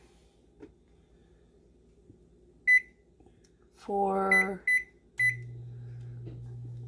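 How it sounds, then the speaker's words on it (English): Electronic kitchen timer beeps in short bursts as it is being set, a few sharp pips scattered among quiet handling noises and a buzzing tone, with a brief word of speech. "Sorry for all the beeping."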